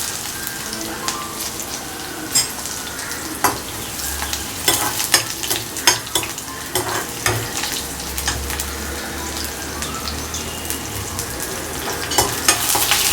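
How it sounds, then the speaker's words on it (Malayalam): Cut dried red chillies fry in a pan with onions for kadala curry, giving a loud, steady sizzle with frequent stirring scrapes and clatters from the spoon against the pan, with no talking. "അതൊന്ന് മൂക്കണം. അത് ഈ വറ്റൽമുളക് മുറിച്ചിട്ട് വെച്ചത്."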